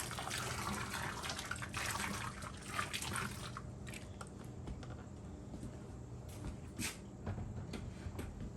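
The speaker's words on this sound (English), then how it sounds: "And I'm going to spin them in this scalding water." Boiling water swirling over home-grown tomatoes in a kitchen sink during canning, a steady close wash of sloshing and splashing with no one speaking.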